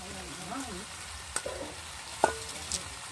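Chopped coriander greens being stirred into a hot pan of simmering mixed-greens jhol, soft sizzling with a few spoon scrapes and clinks against the pan, close and moderately quiet.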